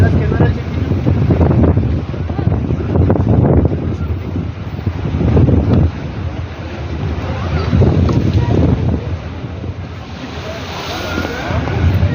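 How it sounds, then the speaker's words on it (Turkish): Sea waves surge in heavy, repeated washes along the Mudanya waterfront promenade, loud and close, with strong wind buffeting the microphone throughout. "Dalgaların şiddetini görüyoruz."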